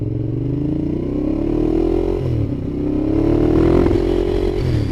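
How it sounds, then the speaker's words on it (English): Ducati Diavel motorcycle engine revving loudly and steadily up close, its pitch rising and falling, with a brief dip near the middle that may be a small backfire. "There was a little bit of a backfire there."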